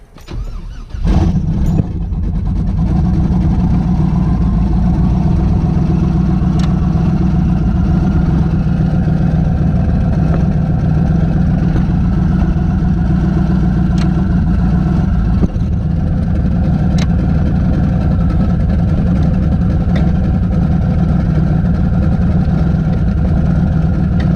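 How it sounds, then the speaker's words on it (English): A truck with a 4L80E transmission starts up and then settles into a loud, steady idle close by, with a low engine rumble that runs unbroken. "but I'll turn the truck on."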